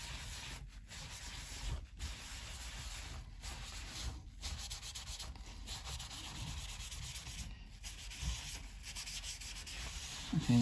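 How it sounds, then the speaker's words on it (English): Steady rubbing strokes as oil is worked into the fretboard of a Harley Benton HB PB-20 bass guitar, a close continuous scratchy friction with rhythmic brief pauses roughly once a second. "that's how you oil a fretboard quickly"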